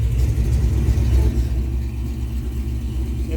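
A 427 Windsor V8 in a 1986 Foxbody Mustang with aftermarket exhaust idles near 1,000 RPM, giving a steady, loud low rumble with a slight dip partway through, heard alone.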